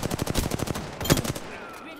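Rapid automatic gunfire from a weapon in Apex Legends, a fast, loud burst of evenly spaced shots that stops about halfway, leaving a brief trailing echo.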